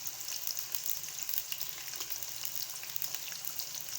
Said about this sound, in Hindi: अब जो है हम आलू को ऑयल में जो है फ्राई कर लेंगे।